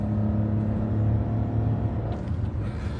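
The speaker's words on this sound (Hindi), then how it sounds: "इवन इंजन की नॉइज देखो आप," Maruti car engine running with a diesel-like note, a steady low rumble with a faint hum, close and continuous throughout.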